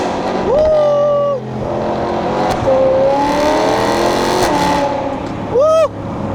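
BMW E92 M3 V8 revving hard, the engine pitch sweeping up and down through several loud, close blips and a sustained rise, with a sharp rev flare near the end and no voices.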